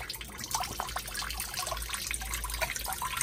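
Clean cool water from a small switched pump runs onto a chain during chain sharpening, a steady close trickle and splash with dripping and no talking.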